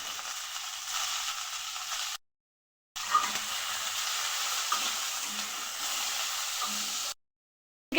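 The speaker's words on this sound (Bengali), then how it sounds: "প্রথমে এই তেলের মধ্যে আমার কেটে রাখা আলু আর পটল একসাথে ভেজে নেব।" Cut potatoes and pointed gourd fry together in hot oil, giving a steady broadband sizzle with faint stirring knocks, broken by two short stretches of silence.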